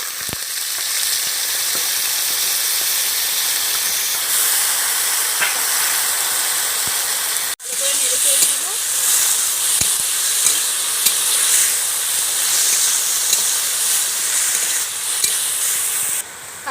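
Boiled water lily stems fry with bay leaves in a pan, a loud, steady sizzle and hiss with a sudden burst of fresh crackling as the stems go in midway.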